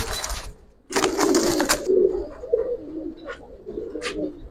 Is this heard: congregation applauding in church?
no